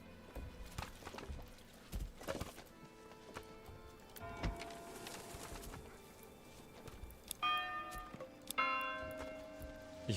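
A bell chimes inside a backyard-building video game, with several distinct ringing tones rising at intervals among soft clopping and footstep-like taps, all quiet and fairly close, with no talking.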